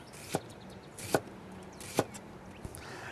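A knife slicing cucumbers into rings on a cutting board for a spring salad, four crisp separate chops spaced about a second apart, close and clear over faint room noise.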